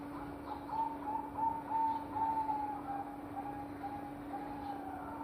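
A zebra dove (perkutut) gives a soft, rolling coo of several quick, repeated notes, close and moderately faint over a steady low hum, then trails off.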